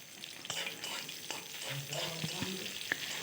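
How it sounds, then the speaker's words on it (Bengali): Oil sizzles in a pan on the stove as food fries, with a few stirring scrapes and clinks breaking through a soft, close, steady hiss. "এটা একটু একটু ভাজা হয়ে গেলে পেঁয়াজ কুচোনোগুলো দিয়ে দেব"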